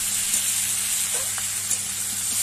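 Steady sizzling of drumsticks, pumpkin and potato sautéing with rohu fish in a pan, a continuous bright hiss with occasional faint stirring taps throughout.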